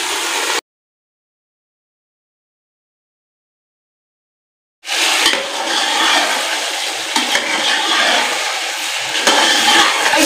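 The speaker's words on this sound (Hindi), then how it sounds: "अब इसमें डालेंगे जी ये अपना चिकन," One kilogram of chicken is added to a pot of tomatoes over a village cooking fire, giving a loud, steady sizzle and frying hiss, close up, after a few seconds of silence.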